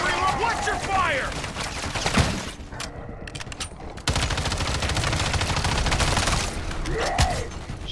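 Gunfire in a Call of Duty Modern Warfare 3 open-world zombies match: loud sustained bursts of rapid shots and crackling fire running through the whole stretch, with a brief lull midway and voices calling out over it.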